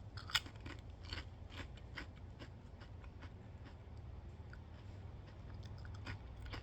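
Someone crunches bubbly wine and serrano pepper flavoured potato chips, with a run of crisp, close bites and chews that is sharpest at the start and settles into steady munching.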